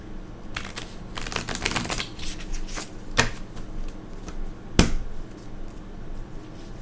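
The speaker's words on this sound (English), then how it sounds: "I wanted to shuffle a third time, actually" A deck of cards is riffled in a quick fluttering burst, followed by scattered soft taps and clicks as the cards are squared up.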